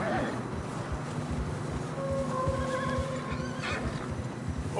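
Horses whinnying and snorting over a constant rumbling backdrop, with muffled trampling underneath throughout, as they struggle through fresh snow on a narrow path in Red Dead Redemption 2.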